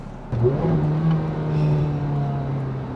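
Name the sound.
sports car engine revving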